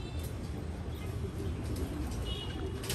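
A female racing pigeon of the Jan Aarden breed coos softly in a loft, low murmuring calls set against a faint, steady background hum.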